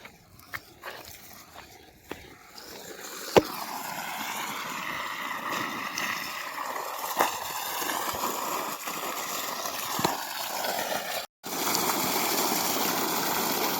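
Water rushing from the two-inch pipe of a 7.5 hp GK solar pump, building from a few clicks into a steady loud gushing roar outdoors, with a brief cut near the end.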